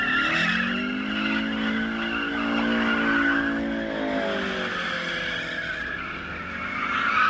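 A car doing doughnuts at the Turkish border, its tyres squealing in a long continuous skid that rises and falls in pitch, loud and close, with engine noise underneath.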